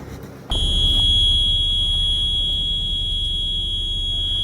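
A car dashboard warning beep starts abruptly and drones on continuously, steady and high, fairly loud and alone, with a low hum underneath.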